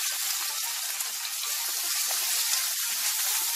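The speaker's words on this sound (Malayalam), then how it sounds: "ഞാനിതിലേക്ക് ഉള്ളി ഇട്ട് വറുത്തെടുക്കാം" Onions fry in hot oil in a pan, a steady, soft, hissing sizzle with no talking.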